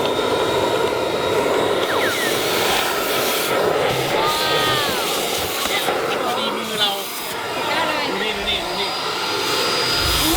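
A new household vacuum cleaner runs continuously at close range, a loud steady whining drone, while voices chatter and call out over it.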